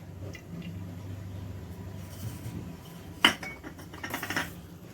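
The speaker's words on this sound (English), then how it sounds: "And now we mix everything well." Chocolate cake batter containing salt and yeast is stirred in a bowl. Soft, faint scraping runs throughout, with a brief sharp clink of a utensil against the bowl midway and some clattering near the end.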